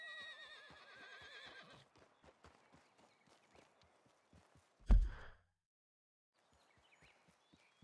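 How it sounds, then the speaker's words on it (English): A horse in the video game Red Dead Redemption 2 neighs and whinnies loudly at first, then clip-clop hooves sound at a steady rhythm, followed by one deep thud and a soft snort near the end. "Where's my frickin' horse?"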